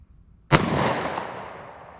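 Single gunshot from a Taurus .38 Special revolver, one sharp loud crack followed by a long fading outdoor echo.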